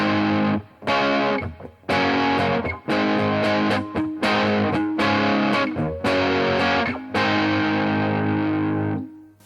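A guitar played through a Zander Circuitry Cranium distortion pedal with its volume turned down to about 6, giving a milder overdrive-like grit. Loud, sustained distorted chords are struck repeatedly in a steady rhythm, close and alone with no talking.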